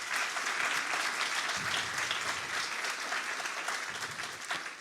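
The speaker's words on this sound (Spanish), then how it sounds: "Les quiero pedir a todos un fuertísimo aplauso para el equipo del inventario." An audience at the presentation of a national inventory of glaciers and lagoons applauds the inventory team with steady, fairly faint clapping that carries on evenly before tapering slightly.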